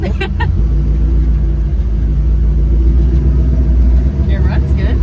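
A truck engine rumbles heavily and revs under load for a burnout, close and loud throughout with a deep, sustained low growl. Brief voices are heard at the start and near the end.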